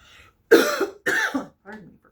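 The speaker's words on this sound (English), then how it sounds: "Pardon me for coughing" A person coughs two or three times in quick, loud bursts, followed by a softer trailing cough, close to the listener with no speech around it.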